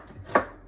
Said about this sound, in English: So once we get your apples all chopped